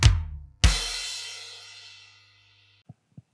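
Drum kit playing a short fill: a bass drum thump with a crashing cymbal that rings out and decays, followed by a couple of quick soft hits, heard alone.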